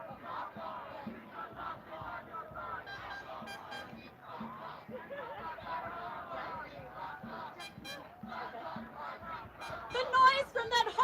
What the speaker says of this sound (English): noise from that hostile crowd over there